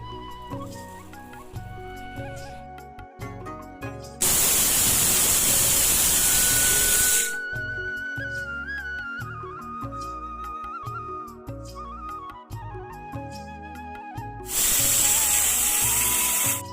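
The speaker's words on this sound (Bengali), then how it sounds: "এবার গোবিন্দভোগ চালটা আমি মিক্সারের মধ্যে দিয়ে গুঁড়ো করে নেব।" A kitchen mixer grinder grinds dry Gobindobhog rice into powder in two loud, harsh bursts of whirring noise, each lasting a few seconds, separated by quieter stretches with background music.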